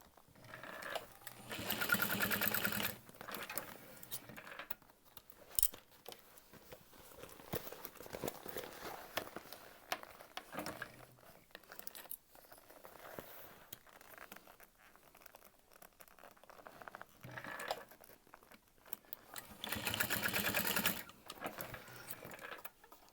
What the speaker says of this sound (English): top stitched on the sides